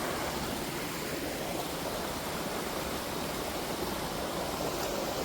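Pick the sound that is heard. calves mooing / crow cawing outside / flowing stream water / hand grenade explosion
flowing stream water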